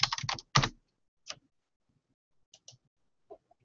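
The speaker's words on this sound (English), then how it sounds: "just type in Shire." Typing on a computer keyboard, a quick burst of close key clicks followed by a few scattered single taps in a quiet room.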